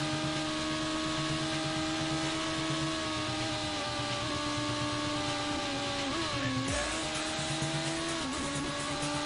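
A BMW Z3 M Coupe drives by with a steady, loud engine drone and a whining tone throughout. The pitch dips briefly partway through before settling back.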